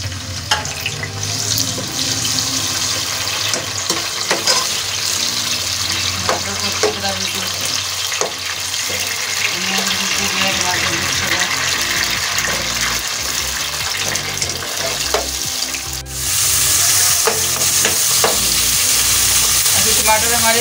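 Tomatoes going into a pan of browned onions for chicken tikka curry set up a loud, steady sizzle with stirring clatter throughout, the frying growing noticeably brighter and fiercer toward the end.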